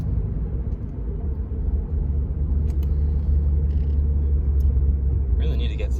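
Car engine fitted with a cold air intake, warmed up, drawing in air as a continuous low rumble and whoosh while driving, with a few faint clicks and a brief higher noise near the end.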